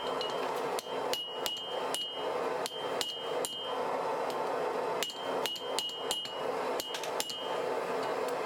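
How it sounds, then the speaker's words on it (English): A hammer planishes the metal head of a six-pound firefighter's axe on an anvil over and over, each blow ringing sharply, in uneven clusters with short pauses, loud and close. "refine the shape and planish things even further on the anvil"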